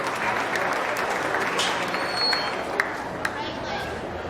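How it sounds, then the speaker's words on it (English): Crowd at a county fair swine show gives a round of applause for a class of Poland gilts, dense continuous clapping at moderate distance with a few louder nearby claps and background chatter. "Congratulate them with a good round of applause."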